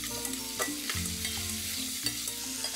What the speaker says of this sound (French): Dans ma casserole, je vais mettre une cuillère à soupe d'huile d'olive. Et puis, je vais glisser dans la casserole mes lardons.